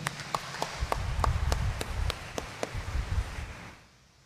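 A church congregation applauds for the Nuestro Padre Jesus Nazareno image, with scattered sharp claps rising into a steady patter of clapping that fades out near the end.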